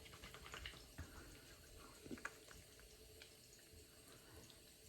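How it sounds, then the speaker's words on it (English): Faint water trickling and splashing from a tap, with a few light clinks, quiet and fairly steady. "So you're going to mix a little water with it."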